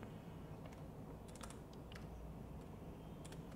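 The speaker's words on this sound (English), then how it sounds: "I'll just click on add and I'll type here as 20 to 29" Soft keystrokes on a computer keyboard, typed in short clustered bursts with brief pauses, faint and close in a quiet room.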